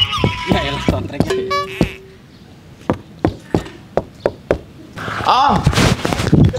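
Someone bangs on a door with sharp, evenly spaced knocks, about eight loud thuds in a row. Voices are heard briefly before and after.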